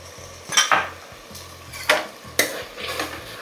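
Tomato paste fries in a pan for tomato biryani while a spoon stirs it, giving several sharp scrapes and clinks against the pan over a low, steady sizzle, close up and without talk.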